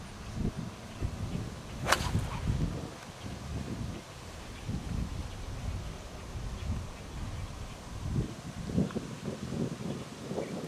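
A single sharp swish and crack of a golf swing striking the ball with a 9-iron on a windy course ahead of a storm, brief and clear against steady gusting wind noise.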